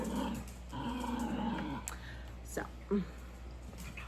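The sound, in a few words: dogs growling and whimpering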